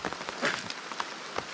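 Rain falling steadily on a mountain forest, a soft continuous hiss of drops with scattered sharper taps on nearby surfaces, moderately faint and with no voices.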